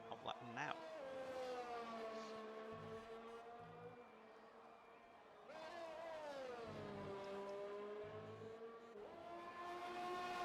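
A Formula 1 race car engine at Monza in a video game screams at high pitch on an outlap, its revs climbing and dropping through gear changes around the Lesmo curve, with commentary talk running beneath.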